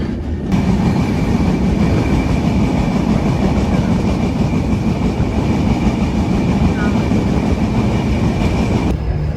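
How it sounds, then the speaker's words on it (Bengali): The Kapotaksha intercity express train departing Jessore railway junction rumbles steadily past, its low roar and rhythmic wheel clatter filling the air at close range, with a faint whine above. "আন্তনগর Kapotaksha express departure Jessore railway junction"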